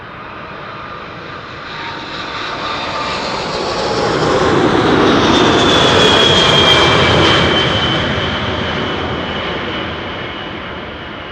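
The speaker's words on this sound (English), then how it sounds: "Cargolux, flight 2616, 8 hours and 23 minutes underway. 747-400 freighter, 21 years old, first flight April 2004." A Cargolux Boeing 747-400 freighter roars in to land at Amsterdam Schiphol, its jet engine noise swelling steadily to a loud broad rush with a rising whine near its peak, then slowly fading away.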